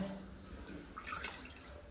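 Water is poured into a cooking pot in a home kitchen, measured by the tumbler, making a soft, faint splashing trickle that runs throughout.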